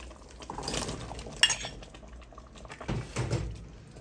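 Potatoes going into a pot of cooking duck: soft clattering and scraping of a spoon against the pot, a sharp clink, then more shuffling as pieces drop in, close and quiet.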